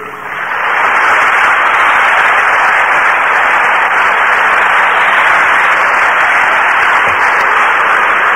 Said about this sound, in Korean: 우리 한번 박수 환영합니다.